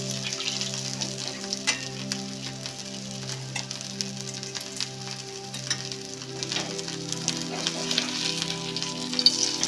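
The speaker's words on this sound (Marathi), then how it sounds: "दोन्ही बाजूने चांगले व्यवस्थित खरपूस भाजून घ्यायचे बघा असं वरून तेल घाला" Potato patties shallow-frying in oil in a pan, browning on both sides, with a soft, continuous crackling sizzle like light rain and scattered sharper pops, with a low steady hum underneath.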